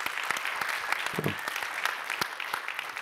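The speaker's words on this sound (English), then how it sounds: "let's give a round of applause for Josh for excellent presentation" Applause for the presenter Josh at a RoboCon conference session, a steady patter of clapping from a few people that runs for about three seconds, with a short murmur of voice underneath.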